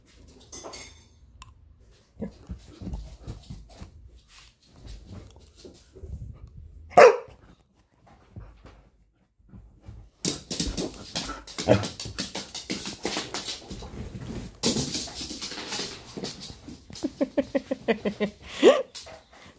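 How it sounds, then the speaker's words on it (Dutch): A pet dog barks in a home, several loud sharp barks standing out in bursts, especially a strong one mid-way and a rapid cluster near the end, amid quieter stretches with people talking. "Ga maar blaf hoor, met die beneden buurman van me."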